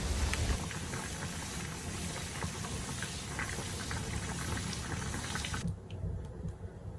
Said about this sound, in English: Blanch the green beans in boiled water for a few minutes